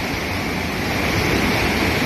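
Cascade Falls roars nearby after several days of rain, a loud, unbroken wash of rushing water that fills the air with no voices over it.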